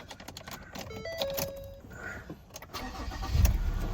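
A 2016 Ford Ranger 3.2 TDCI Wildtrak diesel pickup cranks briefly and fires up, settling into a close, rumbling idle, with a few beeps and clicks from the cabin early on.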